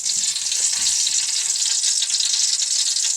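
Ghee heats in an uruli and sizzles with a steady, close frying hiss that runs evenly throughout, with no voices.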